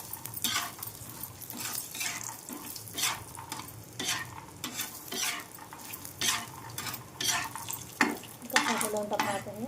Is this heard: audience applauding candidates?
no